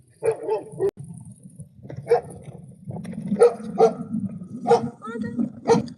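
A German Shepherd dog barks several times in a loose series of sharp, moderately close barks, with a person talking underneath throughout.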